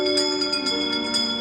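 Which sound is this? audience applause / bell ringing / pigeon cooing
bell ringing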